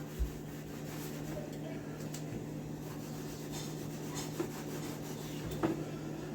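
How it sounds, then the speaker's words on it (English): A cloth rubs over a freshly oven-seasoned old cast iron pan, a soft, low scuffing wipe heard close against a steady background hum, with a few light knocks. "what you want to do after you pull them out of the oven is just give them a little wipe down"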